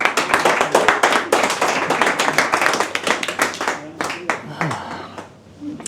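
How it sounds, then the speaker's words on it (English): An audience gives a round of applause as a speaker is introduced at a talk on relationships in Zurich, loud close clapping from a small crowd that breaks into scattered claps and dies away near the end. "Please give him a big round of applause."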